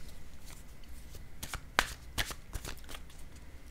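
Playing cards are shuffled for a card reading: soft, quick riffling and shuffling rustles come close by and fairly faint, in a few short bursts.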